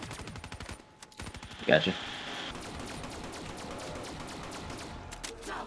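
Sustained automatic gunfire from Call of Duty Black Ops 3 Zombies on the map The Giant rattles steadily for several seconds after a sharp burst, with a player briefly speaking over it.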